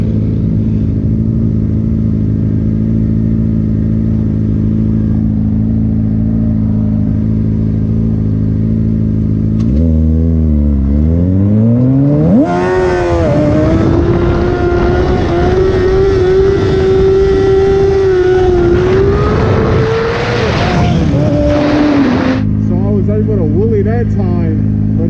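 A 2006 Suzuki GSX-R 600 sport bike with a slipping slipper clutch idles loudly, then revs hard, holding a high droning pitch for several seconds before dropping back to idle, with talk running throughout.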